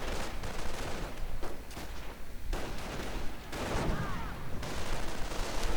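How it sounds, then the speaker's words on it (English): Dense gunfire and machine-gun bursts from a WWII strategy video game, a continuous rattle of overlapping shots at fairly low volume. "And Foot Grenadiers coming under quite a bit of fire"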